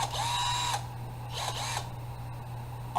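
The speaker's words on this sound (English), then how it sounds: "I'm trying to drill something" An electric drill gives two short, whining runs, the first longer and steadier and the second brief, then stops, against a faint buzzing hum and background hiss.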